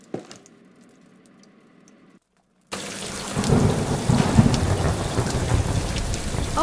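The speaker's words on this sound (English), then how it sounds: "It could be thunder" After a quiet stretch and a brief silence, a loud rumble of thunder from a derecho storm in an animated scene rolls in with heavy rain pouring steadily on surfaces.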